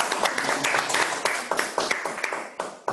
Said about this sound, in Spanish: Un gran aplauso para todos ustedes.